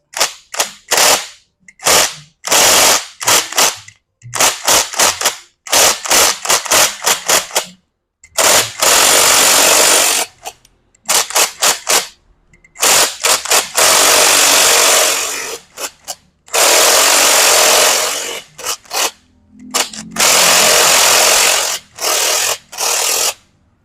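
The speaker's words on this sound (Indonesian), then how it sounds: "Dan bagian atasnya kita putar menggunakan impact." An impact wrench loosens the top of a Delphi air-conditioning compressor from a Chevrolet Opel Blazer, firing in loud, close, rapid hammering bursts separated by brief silences.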